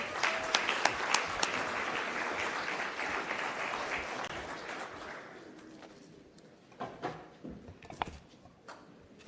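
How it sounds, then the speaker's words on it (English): A large audience at a Malcolm X commemoration event applauds, dense and sustained for several seconds before thinning into scattered individual claps near the end. "Another round of applause."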